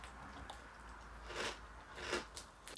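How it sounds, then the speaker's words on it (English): Soft, close crunches of white chocolate Coco Pops cereal in milk being chewed, a few quiet bites in quick succession with no talking. "Cereal has a good crunch to it."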